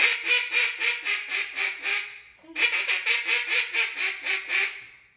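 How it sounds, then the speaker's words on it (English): Duck calls are blown in a calling class, with two runs of evenly spaced quacking notes separated by a short gap. Each run starts slow, picks up speed, then slows again, loud and close with no talking. "now blow your ducks. Let me hear your ducks."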